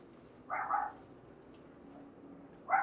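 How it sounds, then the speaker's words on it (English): Two short muffled barks from dogs shut in a nearby hotel room, one early and one at the end, faint behind a quiet room hum. "sounds like my floor came with 2 barking dogs in someone's room"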